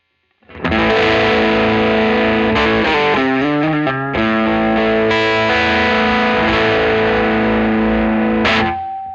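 A heavily distorted electric guitar through a Supro Black Magick tube amp plays sustained chords and a few shifting notes, thick and loud with a buzzy amplifier crunch, ringing out at the end.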